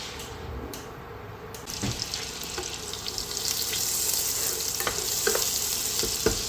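Butter and a little olive oil heat in a pan, starting as a soft crackle and swelling into a steady, close sizzle with scattered pops, with no talking over it.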